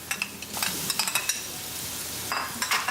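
Cumin seeds and a spoonful of garlic sizzle in hot olive oil, crackling steadily while a spoon scrapes and stirs the pan in short bursts.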